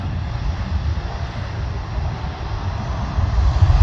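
A fixed-wing airplane taxiing at a snowy airport, its steady engine drone continuous and fairly loud, with a low rumble swelling toward the end and wind buffeting throughout.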